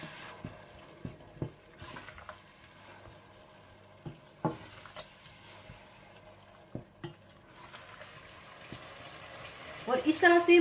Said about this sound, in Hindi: आप मसाले में पानी डालकर अच्छी तरह से भून लीजिएगा ताकि मसाले में टमाटर और प्याज बिल्कुल अच्छी तरह से मिक्स हो जाए